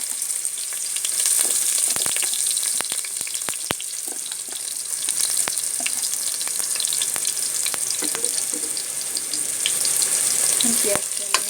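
Sliced onions frying in hot oil for chicken biryani, a loud, steady sizzle with scattered crackles and pops throughout.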